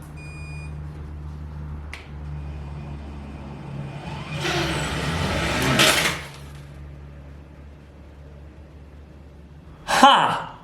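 A combat robot's spinner weapon on an 1806 motor spins up, a rising whine swelling for about two seconds before cutting off, followed by a sharp burst near the end.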